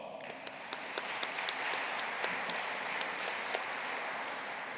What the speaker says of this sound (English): So let's give Renee a round of applause.